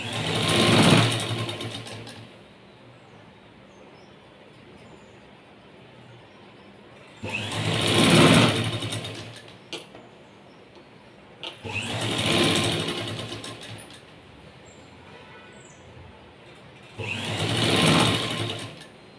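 Sewing machine stitching a blouse lining, four close bursts of rapid mechanical whirring a few seconds each, separated by quieter pauses with faint background hiss.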